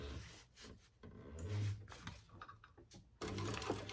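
Domestic sewing machine stitching the lining of a bucket bag, quiet bursts of whirring needle action broken by short pauses and handling rustles, close and soft.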